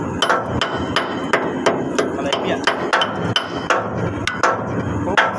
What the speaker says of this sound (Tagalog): Narinig nyo ang ating pangangatok kalawang kasama ang ating mga tropa dyan